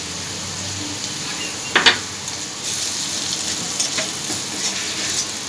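Ground spices, homemade blends plus turmeric, hitting hot oil in a pan for chole: a steady close hissing sizzle throughout, with a couple of brief stirring scrapes partway through.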